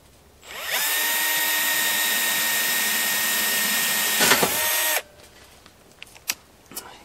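A power drill whines steadily at high speed for about four seconds, stepping up through bit sizes, its pitch dipping briefly near the end before it winds down and stops, followed by faint clicks.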